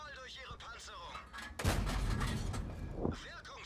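A Sherman VC Firefly tank cannon in World of Tanks fires at a KV-1: one loud, heavy boom with a rumbling tail, preceded by someone talking and followed by a fainter second thump.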